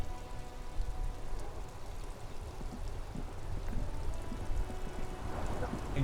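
Steady rain falling on slush, a continuous soft patter and hiss with low rumble underneath, moderately faint and unbroken throughout, no voices.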